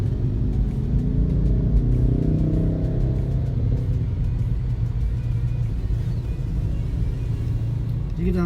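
From inside a car moving slowly through thick smoke haze in Palembang, a close, steady engine rumble and road drone run without a break, with a slight rise in tone partway through.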